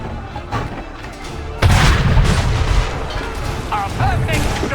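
A cannon shot in Assassin's Creed III booms in with a sudden heavy blast, followed by a rumbling battlefield roar and distant voices.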